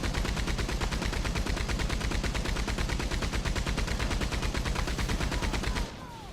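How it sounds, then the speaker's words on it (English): Mounted machine gun fire in the video game Red Dead Online, a rapid unbroken stream of loud close shots at a steady rhythm for several seconds, then an abrupt stop leaving quieter background noise. "Jump on this machine gun and help out."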